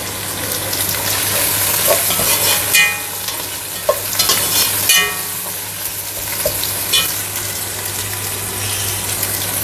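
Meal maker (soya chunk) pulav masala with coriander and mint frying in oil, a steady close sizzle with occasional stirring clinks and scrapes throughout.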